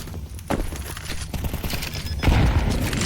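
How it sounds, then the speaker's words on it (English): Grenade explosions in Counter-Strike, deep booms and bursts of gunfire layered in a dense, continuous game mix during a match. "Charge in a big nade. 2 big nades, and they're doing some significant damage to KZG."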